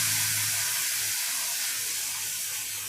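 Marinated chicken pieces frying in a small amount of ghee over a medium flame, a steady close hiss and sizzle filling the whole stretch with little variation.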